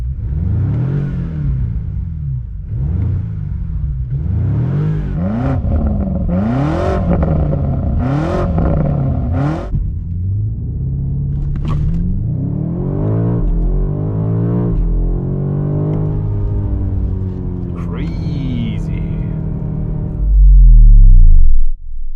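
A 2025 BMW M5 with a 727 hp V8 accelerates hard on the Autobahn, revving up through repeated gear changes in rising sweeps, loud and close throughout, with a heavy low roar near the end.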